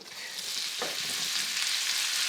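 A large batch of mushrooms sizzles steadily in a hot pan, a close, continuous hiss of frying with a brief stir partway through.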